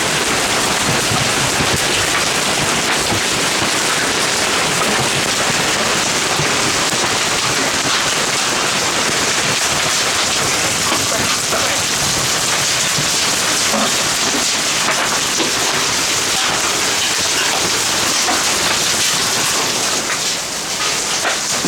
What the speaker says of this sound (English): 2-inch diameter hail.